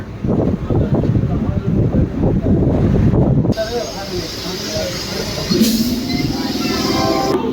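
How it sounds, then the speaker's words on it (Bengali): A local train pulls into the platform at Bandel station, a loud rumbling roar giving way to a hissing, airy station ambience as people talk nearby. "ট্রেনটি ব্যান্ডেল প্ল্যাটফর্মে ঢুকেও গেছে"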